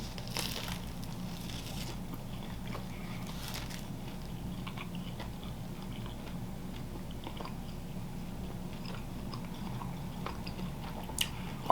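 Slow, steady chewing of crunchy Little Caesars Detroit-style pizza with crisp edges, quiet close-up crunches and bites in an otherwise quiet room with no talking.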